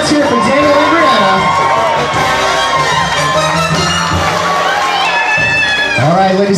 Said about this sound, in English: Ladies and gentlemen, nice round of applause for Rebecca and AJ.